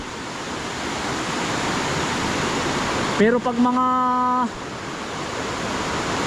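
Rushing floodwater from the Sierra Madre mountains pouring past a wrecked bridge, a loud, steady broadband roar throughout, with someone speaking briefly over it.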